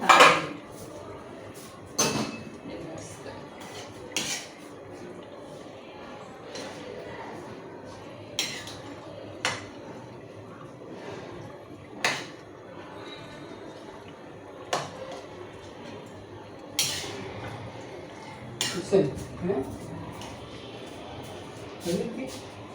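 A spoon clinks and scrapes against a dish while chicken curry is mixed into dog food, giving sharp intermittent clatters over a quiet background as someone talks throughout.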